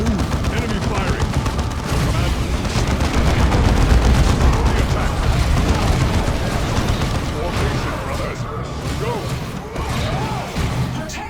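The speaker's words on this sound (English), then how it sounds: "Enemy firing." Enemy gunfire in Warhammer 40,000: Dawn of War II: loud, dense rattling bursts and crashing impacts roll continuously, mixed with battle noise and overlapping voices.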